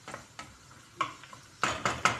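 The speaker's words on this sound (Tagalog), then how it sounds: "binigisa na natin yung sibuyas" Onions sautéing in a pan with a utensil stirring and scraping, several short clattering strokes over a faint sizzle, close and without talk.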